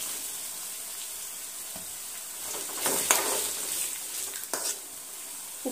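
A spoon stirring radish and dried fish curry in a pan, with soft scraping and gentle sizzling, a few louder stirring strokes standing out in the middle.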